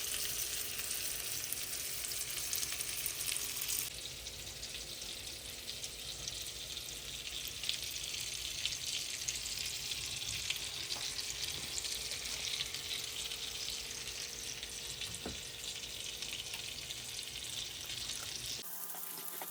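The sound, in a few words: seasoned salmon fillets searing in a skillet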